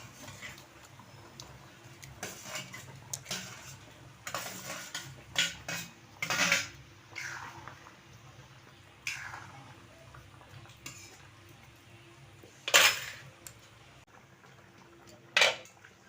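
A lid is lifted off a pot of fish roe curry with a few sharp metallic clanks, followed by scattered stirring scrapes and soft clatter of a spoon against the pan, with quiet gaps in between and no talking.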